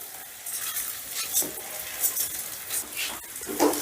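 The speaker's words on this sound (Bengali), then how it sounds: "এবার চালটা দিয়েও মোটামুটি 3 থেকে 4 মিনিটের মতন বেশ ভালো করে ভেজে নেব।" Gobindobhog rice frying in ghee is stirred through the pan in broken scraping strokes with a few metallic knocks against the pot, under a soft steady sizzle.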